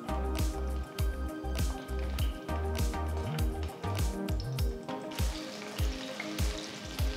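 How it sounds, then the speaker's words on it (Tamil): Chopped eggplant sautéing in sesame oil in a kadai over a medium flame, a loud close sizzle broken by rhythmic low thumps and squishy scrapes as the pieces are turned. "நறுக்கி வச்சிருக்கிற கத்திரிக்காயை சேர்த்து நல்லா வதக்கிக்கலாம்."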